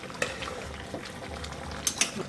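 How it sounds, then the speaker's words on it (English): Spicy braised chicken dakbokkeumtang being stirred in a pot, soft bubbling and scraping with a few light clinks of a utensil against the pot, quiet and close. "so stir this."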